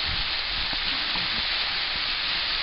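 Ratatouille vegetables sautéing in a pan make a close, steady sizzle and crackle, broken by a few light scrapes and taps of stirring.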